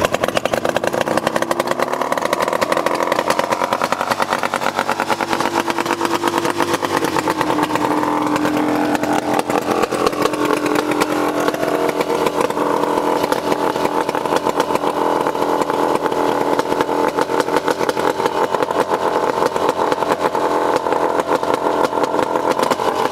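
A vintage snowmobile engine runs steadily and loudly at close range for the whole stretch, a buzzy two-stroke rattle with slight shifts in pitch and no voices over it.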